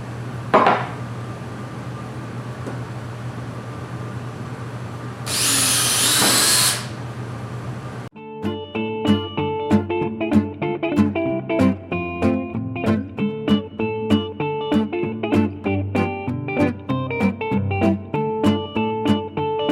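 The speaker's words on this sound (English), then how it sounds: "First thing to do is to drill out the box joints for our nails." A power drill drills out box joints in a wooden hive body, with a short high whine burst early on, followed by a long run of sharp, rhythmic tapping and clinking from the assembly work.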